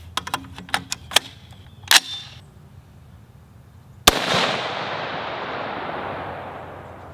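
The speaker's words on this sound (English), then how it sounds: "So we'll shoot one from here" A single loud, sharp Diamondback DB10 AR-10 rifle shot in 6.5 Creedmoor, fired at 55 yards, whose blast decays into a long open-air rumble, preceded by a few small clicks and handling taps.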